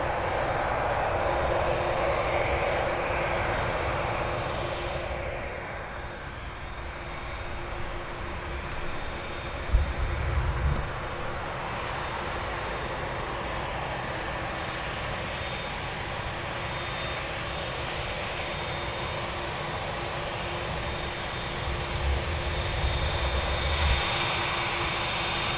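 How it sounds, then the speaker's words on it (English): A Boeing 787 Dreamliner lands on runway 25R at a freezing Frankfurt airport, its engines a steady, fairly distant rumbling whine that lasts throughout, with a couple of brief low thumps along the way. "You can hear the Dreamliner coming in."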